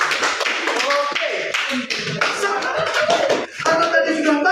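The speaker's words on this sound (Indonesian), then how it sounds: "Tepuk tangan sekali lagi sama Biagi" A classroom of students claps for a classmate named Biagi, a close and lively run of hand claps lasting several seconds that mixes with voices.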